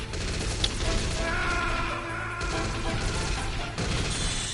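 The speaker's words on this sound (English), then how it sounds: "Where is he shooting from?" Rapid bursts of gunfire from Metal Gear Solid, a dense fusillade with sharp cracks and impacts running steadily through the stretch, loud and close without any voices over it.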